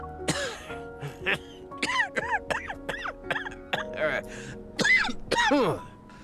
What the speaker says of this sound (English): a bone-chilling laugh resounds, followed by a feeble coughing fit.